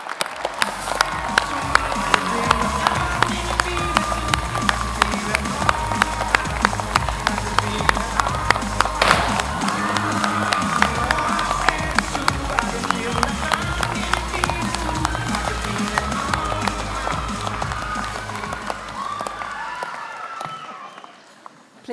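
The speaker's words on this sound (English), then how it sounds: "Everyone join me in a worthy round of applause." An audience at a Massey University graduation ceremony in Manawatū gives sustained applause, many hands clapping densely and evenly before it fades out at the close.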